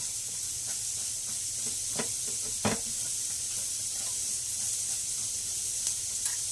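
Rice in a pan on the stove, part of a keto meal prep, hisses with a steady, quiet sizzle, broken by a few soft scrapes and stirring clicks.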